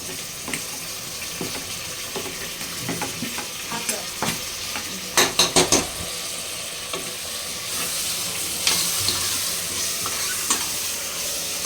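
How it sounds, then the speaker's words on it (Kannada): Chopped tomatoes and onions fry in a pan while being stirred, a steady sizzle broken by scraping and clinking strokes of the spoon, including a quick burst of taps midway. "ನೋಡಿ 5 ಟೊಮೆಟೊ ಕಟ್ ಮಾಡ್ಕೊಂಡು ಈರುಳ್ಳಿ ಜೊತೆ ಫ್ರೈ ಮಾಡ್ಕೊಂತಿದ್ದೀವಿ ಇವಾಗ ಅದನ್ನ."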